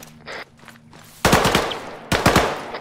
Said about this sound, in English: LMGs can be covering fire.